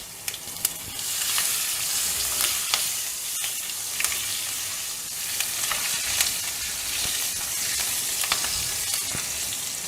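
Green chillies sizzle in hot oil with asafoetida in a pan for a pumpkin subzi, giving a steady, loud frying hiss with occasional sharp pops and crackles and no talk.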